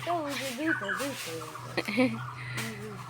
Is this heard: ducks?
yes